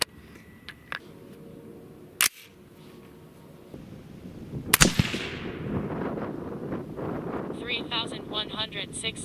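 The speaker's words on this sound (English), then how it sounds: "Gonna shoot another five shots and see if we get another flyer on the first round." An AR-15 coyote rifle fires .223 handloads of 53-grain Hornady V-Max over 26.3 grains of Accurate 2460: two sharp, loud shots a few seconds apart over gusty wind noise.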